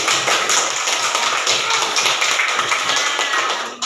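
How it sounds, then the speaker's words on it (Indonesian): An elementary school class claps hands for classmates after a science lesson, a loud, dense and steady burst of many small hands clapping together that continues without a pause until it cuts off abruptly at the end. "Beri tepuk tangan untuk mereka"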